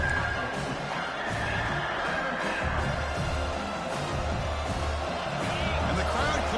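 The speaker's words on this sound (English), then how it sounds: "And the crowd coming to life here, trying to help this defense down in the red zone." Stadium crowd at a football game, a broad sustained roar of cheering fans swelling as the home defense holds in the red zone, with a commentator talking over it.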